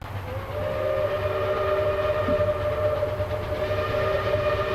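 A train whistle sounds as a long, sustained multi-tone blast over a low rumbling rail background, steady and loud throughout with no talk.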